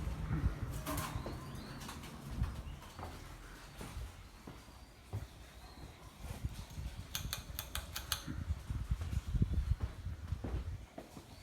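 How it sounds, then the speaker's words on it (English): Birds flutter and call faintly in the background, with soft wingbeats and scattered chirps over a low, steady hum. "The birds are not fighting in the background, just for those wondering."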